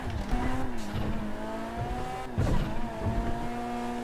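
A car engine hums and shifts pitch while driving in Grand Theft Auto V, with faint tire squeal and skidding accents over a steady game background.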